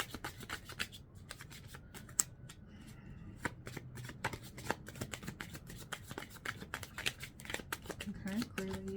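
Tarot cards are shuffled by hand in rapid, crisp riffling bursts, close and clear, with a few pauses and some quiet talk.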